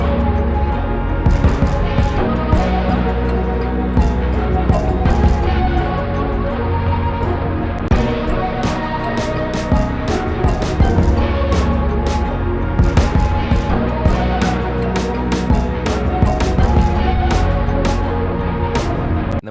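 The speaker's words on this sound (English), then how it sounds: "Here's our kick pattern." A dense electronic beat plays continuously, with a thumping kick drum pattern under layered synths and percussion, loud and steady throughout.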